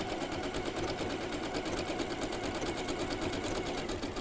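A sewing machine stitches appliqué onto quilt fabric, giving a fast, steady mechanical whir with rapid, even needle strokes. It runs close and continuously throughout, with no talk over it.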